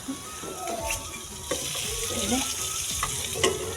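Parwal (pointed gourd) sabzi frying in a pan, a steady close sizzle with occasional stirring scrapes and clinks throughout.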